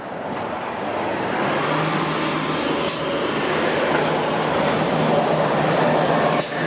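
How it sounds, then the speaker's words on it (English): Toronto UP Express train passing near a street, a steady loud rumbling rush of rail and wheel noise mixed with road traffic, lasting throughout with brief high squeals. "there's an Up Express train"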